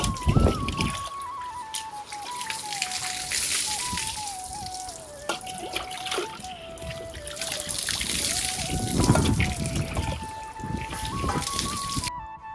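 Water splashes and trickles as it is poured over the top of a sun-heated tank at a farm, a continuous close pouring and dribbling with a faint tonal hum running underneath.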